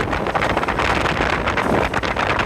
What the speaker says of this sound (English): some gusts coming in